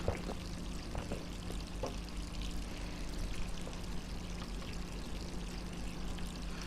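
Water left running in Resident Evil 3 Remake pours steadily from a tap, a continuous close splashing stream with a few faint clicks over it and no voices.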